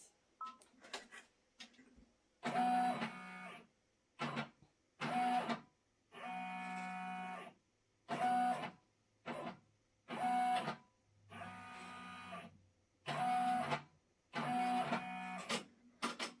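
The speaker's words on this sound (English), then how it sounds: "Now I'm going to do the trace button just so I can make sure that it's going to fit within the space." An embroidery machine runs its trace function around the design outline, moving the frame in a series of about ten separate motor bursts, each a steady whirring buzz with a short beep, close and with no voices.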